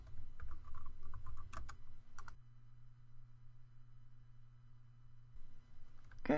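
Rapid keystrokes on a computer keyboard while a name is typed in SSIS 2014 software, a quick burst of clicks at the start, then a pause over a steady low hum before a few final keys.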